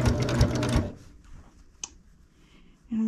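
Sewing machine with a walking foot stitching quilt binding, a dense loud mechanical whir for under a second, then quiet with a faint click before the motor starts up again near the end.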